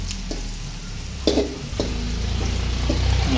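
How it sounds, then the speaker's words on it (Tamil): Bitter gourd sautés in a pan with a soft, even hiss, broken by a few sharp clinks and scrapes from stirring, with no voices. "நல்லா வதங்கிட்டே இருக்கணுங்க"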